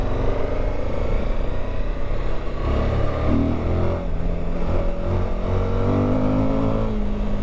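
A Suzuki V-Strom 1050 motorcycle engine hums steadily while riding, a continuous loud drone with slight shifts in pitch under wind noise, and no voices.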